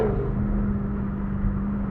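2021 Jaguar F-Type R Convertible engine revving, a steady, loud low rumble with a strong droning tone heard from inside the car, continuous and unbroken for about two seconds, with no talk.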